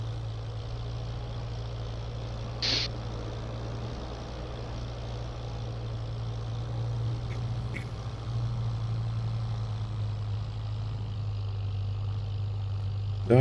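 Steady low drone of a farm tractor engine idling on a French farm, constant and moderately near for the whole stretch, with a couple of brief clicks and knocks but no speech.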